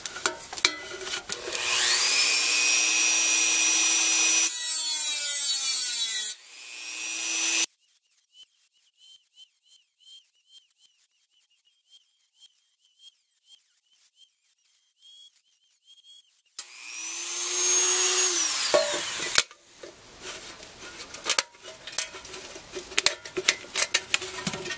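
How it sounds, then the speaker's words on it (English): A Dremel rotary tool cuts through a metal coffee can in two loud, shrill grinding bursts with a rising and falling whine, separated by a quiet stretch of light clicks and handling noises. "using a Dremel is just so much more, easy, so I'm going to use one"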